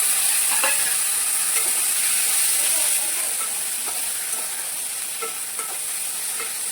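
Chopped tomatoes go into fried onions in a pan for tomato chutney, giving a steady, close sizzle and hiss with light stirring scrapes throughout.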